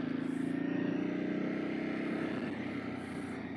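Ducati 999 sport motorcycle heard while riding: a loud, steady engine drone close to the rider, holding an even pitch and tapering slightly toward the end, with no talking.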